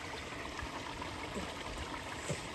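Water flows steadily through a small creek on a farm, a continuous soft rushing and trickling close by with no voices.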